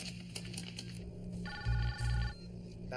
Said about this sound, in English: Let's get Jack on the phone, please